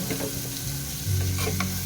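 Steady sizzling and bubbling from a pot of canned mackerel sinigang (sour fish soup) on the stove, with a low continuous hum and some faint clinks.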